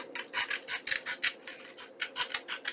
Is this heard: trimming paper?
yes